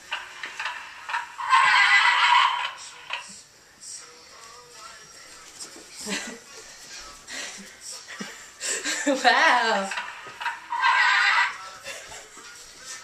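A toy bubble horse gives out loud electronic neighing bursts, then a clip-clop of hooves, in a home by a fireplace. People talk around it and a child makes sounds.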